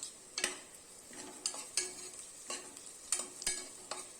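Onions sizzling in a hot pan while being stirred, with repeated scraping strokes of a spatula against the metal at a steady, unhurried pace.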